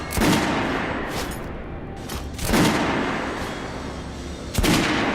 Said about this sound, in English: Try shooting for the center of the regular dummy's chest.